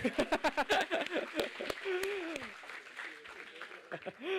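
Audience at a startup pitching competition final in Malaysia clapping in a rhythmic series of sharp claps at first, then scattered claps among voices and chuckles.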